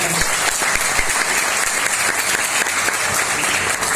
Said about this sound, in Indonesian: Beri aplaus buat upline aktif saya